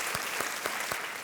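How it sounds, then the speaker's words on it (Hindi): A studio audience on the TV quiz show Kaun Banega Crowdpati season 5 applauds a contestant with brisk, continuous clapping, close and even, without talking. "तालियों के साथ इनका अभिनंदन करते हैं"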